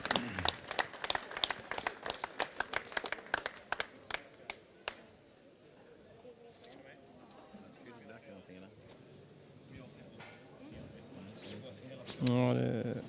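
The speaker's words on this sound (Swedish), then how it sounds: "En stor applåd." A round of applause for a chef in the Årets Kock 2013 semifinal in Jönköping, sharp scattered claps for about five seconds, then quiet kitchen-hall murmur and clatter with a voice near the end.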